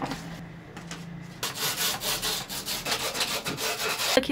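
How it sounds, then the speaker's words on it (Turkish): Fine sandpaper is rubbed over a wooden easel piece by hand: after a quiet start with a couple of light strokes, a brisk run of close, rhythmic back-and-forth scrapes follows, ending with a small knock. "bir de şöyle ince zımparayla üzerinden geçeceğiz"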